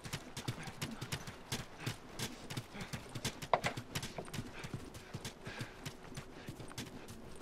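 Horses' hooves in the video game The Last of Us Remastered, a steady, fairly quiet clip-clop of several hoofbeats in quick uneven rhythm that continues throughout.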